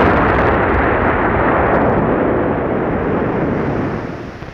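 A loud, sustained roar of missile explosions and blasts rumbles in a planet-destruction video game as Earth is wrecked, holding steady for several seconds before tapering off at the end.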